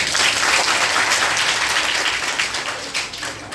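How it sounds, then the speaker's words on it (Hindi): Children in a stress-management talk clap together, a full, loud burst of applause that holds steady and then begins to thin out toward the end. "ताली बजाओ बच्चों"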